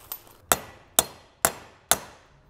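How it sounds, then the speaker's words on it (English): Four sharp hammer strikes land at a steady pace about half a second apart, close and ringing, after a softer tap at the start, seating new brake studs on a Mini. "I usually just get it started with the hammer just so that's kind of seated."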